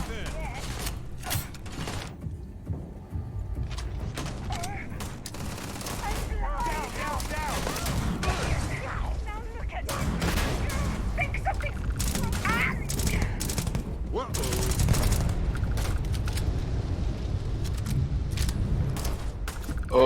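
A gunfight in the video game Starfield erupts in rapid bursts of gunfire, sharp shots and fast volleys crackling almost without pause for about twenty seconds.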